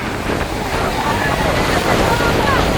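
Sea waves wash in beside the Tiruchendur Murugan temple. There is a constant broadband surf and wind rush with gentle swells in loudness, and a voice may be faintly present over it.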